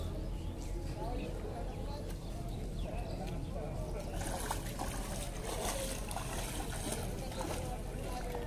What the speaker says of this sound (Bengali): জলের প্রচন্ড স্রোত, খুব স্রোত।